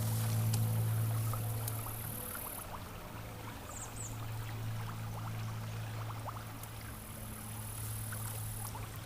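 A water bottle is held down in a flowing backcountry stream, and water pours and gurgles into it. The trickling sound runs steadily and faintly over a constant low hum, with no voices.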